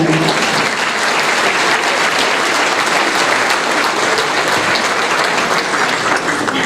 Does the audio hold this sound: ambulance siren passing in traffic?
no